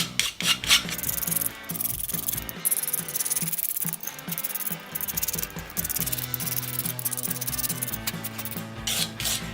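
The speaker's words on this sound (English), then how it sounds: "take your file and sand off that hard edge that's on the side of the chassis" A file rasps along the hard edge of a graphite chassis, sanding it down in steady, close back-and-forth strokes with no voices over it.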